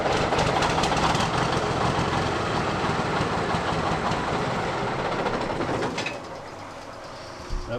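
Engine of an old Kenworth truck running after being restarted with fuel fed from a jerry can line: a loud, dense, continuous rumble that eases slightly near the end, close by.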